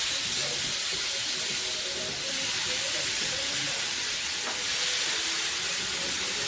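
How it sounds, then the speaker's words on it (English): Beef short ribs, oiled and seasoned with salt and pepper, sizzle steadily in a very hot pan, a loud continuous hiss and crackle with no pauses. "You want to hear that sizzle. That sizzle is your friend."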